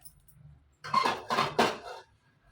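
Roasted spices for homemade bisi bele bath powder tipped onto a plate, giving three short clattering, scraping bursts of metal cookware against the plate, close and clear with no talking.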